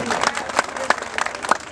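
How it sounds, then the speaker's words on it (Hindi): An audience claps at a foundation's first-anniversary celebration, with scattered, uneven applause from a seated crowd under a busy murmur of voices. "ताली बजाउ"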